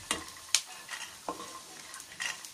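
Mixed ingredients for a bitter gourd spice powder dry-roasting in a pan, with a few scraping stirs and faint crackles at close range, alone and fairly quiet.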